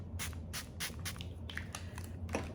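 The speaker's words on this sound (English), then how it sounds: "I hide my lips and then do the setting spray" Repeated short hissing spritzes of a makeup setting spray bottle, about eight bursts in quick succession, close by.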